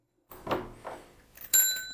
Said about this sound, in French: Petite cloche.